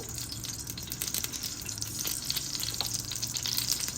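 A rasam tempering fries in ghee, producing a soft but steady sizzle dotted with small crackling pops and faint clinks, heard close without any speech.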